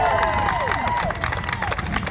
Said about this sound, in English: I was going to say a round of applause, but we didn't need to.